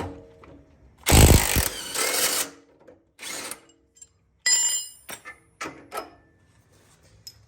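A power tool, likely an impact wrench, zaps off the upper control arm suspension bolts on a vehicle in several sharp bursts: one long loud run, then shorter spaced-out hits with quiet gaps between them.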